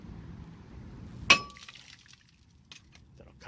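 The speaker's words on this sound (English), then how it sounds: "you're just gonna whack this with a nice sledge, and it should come right out" A sledgehammer strikes a stuck brake rotor on a 2005 Toyota Corolla S, giving one loud, sharp metallic clang with a brief ringing tail, followed by faint clinks and handling noise.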